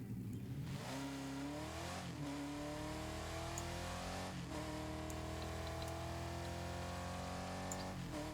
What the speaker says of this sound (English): That's about how I would picture it sounded, a race car